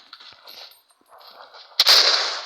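A single loud, bright gunshot with a ringing tail bursts out near the end of a video game, after quieter game ambience and soft shuffling sounds.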